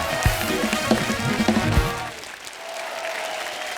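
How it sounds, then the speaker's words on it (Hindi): A television comedy show's studio audience breaks into applause amid some voices and thumps, loud for about two seconds before fading to a quieter, steady room tone. "इनके लिए जोरदार ताली हो जाए।"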